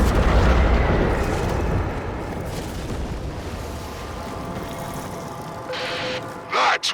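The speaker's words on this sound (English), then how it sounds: "That was the old Macross cannon." Heavy cannon blast in the Warframe game, a deep booming explosion at the start that decays into a long rumbling tail, followed near the end by a couple of sharper bursts.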